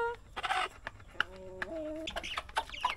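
Native chickens clucking nearby, a series of short clucks and a drawn-out, wavering call in quick succession, fairly close and moderately loud.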